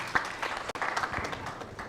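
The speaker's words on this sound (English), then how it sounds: "Can you give a round of applause, please?" Audience applause at a summit, a brief, moderate burst of clapping from a crowd that carries on steadily for a couple of seconds with a momentary dip partway through.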